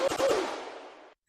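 Three-round burst fired from a customizable gun in a VR first-person shooter, rapid close shots merging into a short echoing tail that fades before silence.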